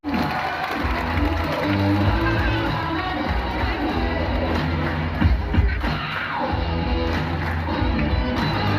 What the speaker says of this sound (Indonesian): terima kasih untuk tepuk tangannya